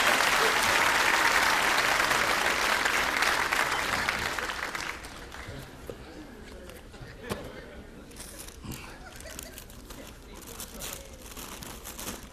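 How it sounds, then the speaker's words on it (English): Audience applauding a volunteer at a magician's show, loud dense clapping for about five seconds that fades out, followed by quieter rustling and scattered sounds with talk. "Let's give her a nice big round of applause."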